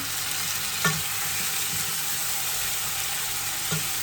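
Tomatoes tipped into a pan of egusi stew hiss in a steady, loud, constant sizzle, with a couple of faint utensil taps and no talking.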